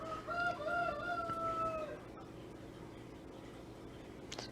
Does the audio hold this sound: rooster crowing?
yes